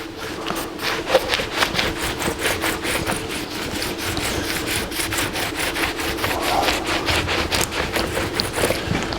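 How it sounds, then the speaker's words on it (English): Steady back-and-forth sanding with 80 grit sandpaper on a 1982 Jeep CJ7 frame, continuous rhythmic rasping strokes at close range with no talk. "We'll sand it down with 80 grit."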